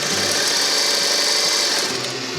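Sewing machine stitching a fabric face mask, running as a steady continuous mechanical whir at close range for the whole stretch, fading slightly at the end.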